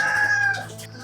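A chicken, among a flock of Texas gamefowl kept at a grandfather's old house, gives a short harsh crowing call, close and fairly loud, lasting about a second.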